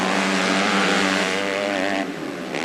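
MX2 motocross bikes racing at the 2005 Isle of Wight MXGP make a loud, continuous, dense engine roar with rising and falling revs, with no pause throughout.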